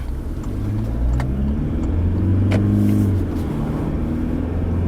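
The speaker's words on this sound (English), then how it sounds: "revs pick up before the rest of the vehicle catches up" A car engine revs up, its pitch climbing then falling back over a few seconds, loud and close, with faint clicks and rattles on top.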